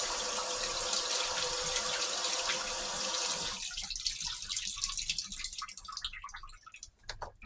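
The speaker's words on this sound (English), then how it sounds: "I'm just giving them all a rinse." Mushrooms being rinsed under a running kitchen tap, a steady close hiss of water that stops after a few seconds, leaving soft drips and light handling noises.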